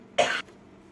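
A woman gives a single sharp cough burst after a bit of muffin went up her nose; it is brief and close, with quiet room tone around it.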